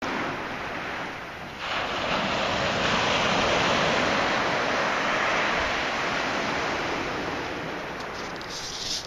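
Ocean waves wash onto a beach in a broad, continuous roar of surf mixed with wind noise, building slightly after the first couple of seconds and staying loud to the end.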